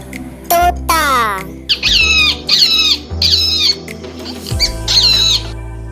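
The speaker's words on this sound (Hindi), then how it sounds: "Now this is a parrot." Parrot squawks in several loud, harsh bursts with rising-falling pitch, close by, mixed with bird chirps and a low musical drone underneath.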